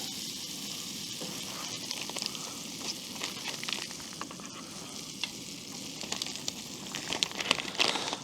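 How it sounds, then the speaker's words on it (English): Butter frying in a pan at a campsite, a steady close sizzle with soft crackles and occasional scraping stir noises, no talking. "Probably should turn it down so I don't burn the butter."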